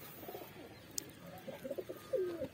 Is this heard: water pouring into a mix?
no